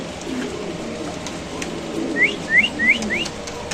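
Pigeons at a wholesale pigeon market give a short run of four rising cooing calls near the end, clear over a steady murmur of market background noise.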